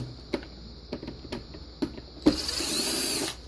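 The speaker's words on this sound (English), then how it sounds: "This is my screwdriver, just for the sake of time," Power screwdriver backing screws out of a Spill Buddy reel segment: several sharp close clicks and ticks, then a steady whirring motor run of about a second before it stops.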